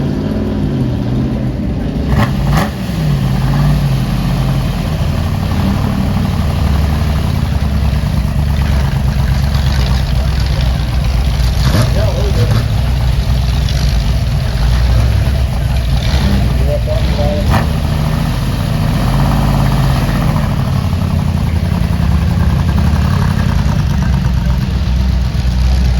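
An original Ford GT40 race car sits at a 2022 car design show, its engine giving a loud, steady, low idling rumble throughout while people talk nearby.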